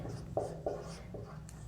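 A pen writes a short example sentence on a board or page during an English grammar lesson, making a few soft, close scratching strokes in a quiet room.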